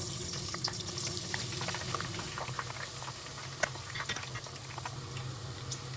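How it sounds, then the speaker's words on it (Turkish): Eggplant sizzles and bubbles steadily in frying oil, a dense crackling patter of frying with occasional sharper pops, no voices. "Biz patlıcanlarımızı kızartmaya başlayalım"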